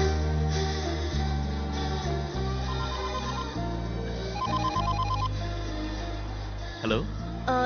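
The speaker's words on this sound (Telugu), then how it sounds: "మిస్టర్ అరవింద్, ఇది నా ఫ్రెండ్ నంబర్, నేను ఈ నంబర్ నుంచి ఫోన్ చేస్తాను." A telephone rings with a repeating electronic trill pattern over a loud low music score, several short ring bursts mixed into the soundtrack of a film scene.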